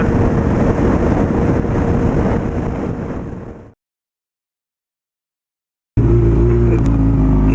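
A motorcycle riding into town, with a steady, loud roar of engine and wind that fades and cuts to silence for about two seconds before the rumble returns at full strength.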